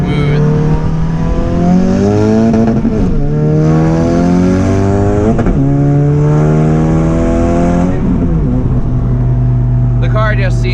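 A Ford Fusion with a 2.3 EcoBoost engine, newly fitted injectors and a bigger fuel pump, revving loud and close. The engine climbs through several hard accelerations, with the pitch rising between gear changes.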